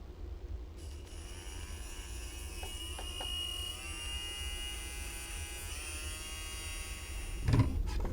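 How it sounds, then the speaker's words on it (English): Small electric motor in a TOMY Daredevil toy being tested because it was not working properly, giving a steady high-pitched whirring buzz with shifting tones and a brief knock near the end. "I need to check this motor, see why it's not working"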